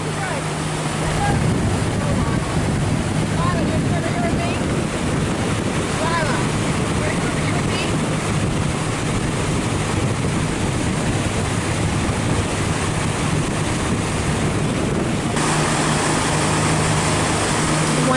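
Strong breeze buffeting the microphone on the open upper deck of the Preston Pearl, a sightseeing boat on a lake on a hot evening; constant loud rumbling wind gusts over a low engine hum and water wash, with no voices.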